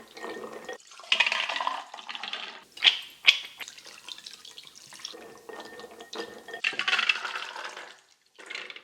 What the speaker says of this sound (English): Let's continue the process and wash the cashew nuts at least 3 times.